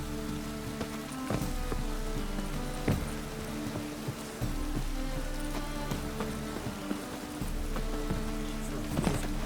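Steady rain in the video game The Witcher III: Wild Hunt patters densely on a surface, with occasional louder drops and taps scattered through the continuous wash of sound.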